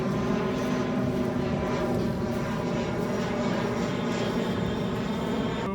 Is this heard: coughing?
no